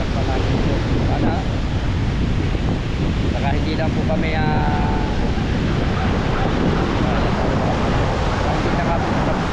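Strong wind buffets the microphone over the roar of ocean surf on the coast, a dense continuous rush, with a person speaking briefly over it.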